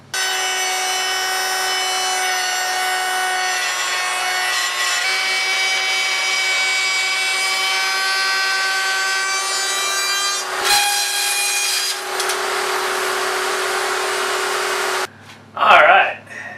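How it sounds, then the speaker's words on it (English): A router whittles a slot into a wooden frame for a car iPad case, a loud steady whine with a strong tone that runs continuously for about fifteen seconds, briefly dipping near the end before the cut stops and a short clatter follows. "I'll do that with the router whittling away at the frame before I put the face of it on."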